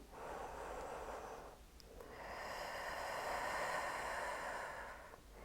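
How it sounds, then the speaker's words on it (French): A faint, slow breath drawn in, a brief pause, then a longer airy exhale during a yoga session, soft and close with no talking. "Prenez juste une grande respiration, une grande expiration."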